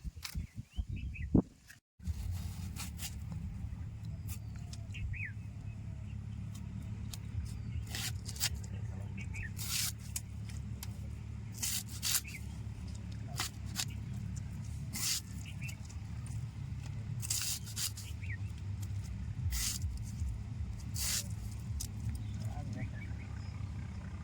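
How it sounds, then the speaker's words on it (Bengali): Taro stems being chopped with a knife, a steady run of sharp crisp cuts and snaps repeating through the clip over a constant low background hum, close and moderately loud. "এরম করে আমি সব কটা কচুর ডাটি এবার কাইটে নেবো"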